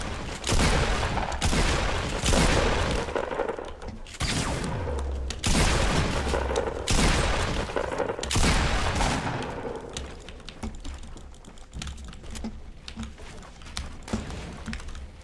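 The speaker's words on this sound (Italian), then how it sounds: "C'è qualcun altro, ci sta sparando" Rapid gunfire bursts from a Fortnite match, loud and continuous, with repeated volleys and booming shots close by across the whole stretch.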